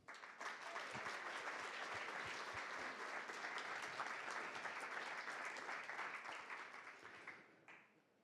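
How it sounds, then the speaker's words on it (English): Sustained applause from a conference audience at a High North business event, dense and steady for about seven seconds before tapering and fading out at the end. "I'd like a round of applause for Jessica"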